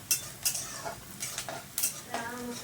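Onions and green chillies fry in a pan while a spoon scrapes and stirs in repeated short strokes, each stroke a brisk clatter over a low, continuous sizzle.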